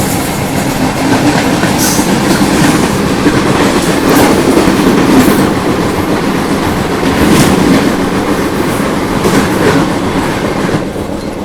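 The 12710 Simhapuri SF Express passenger train runs on the Secunderabad to Gudur route with a loud, continuous rumble of wheels on rails and a rhythmic clickety-clack, heard up close with no voices.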